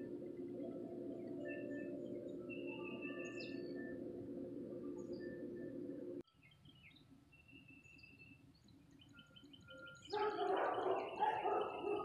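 Several birds chirp and tweet outdoors in the Lost Pines of Central Texas over a steady air conditioner hum, with a brighter burst of calls near the end.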